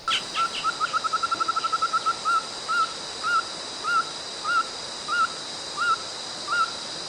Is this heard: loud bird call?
yes